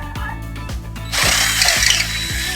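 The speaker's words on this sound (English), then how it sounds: "I drill my hole through." A power drill bores a hole through material for a DIY plant stand, starting with a ratcheting low churn, then rising into a loud, sustained grinding whir as the bit cuts through.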